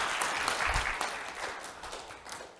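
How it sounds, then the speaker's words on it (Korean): Audience at a bio-industry forum applauds after a speaker finishes, a dense patter of clapping that gradually fades over a couple of seconds. "박수 부탁드립니다."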